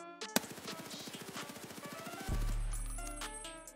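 Rapid automatic gunfire in Escape from Tarkov, fired from a crouched stance: a fast, even stream of sharp shots for about two seconds, then an abrupt stop followed by a low ringing tail.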